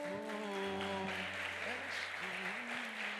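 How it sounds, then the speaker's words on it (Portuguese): A church congregation applauds steadily throughout, a continuous wash of clapping mixed with sustained musical tones and some voices. "Aplaude o nome de Jesus."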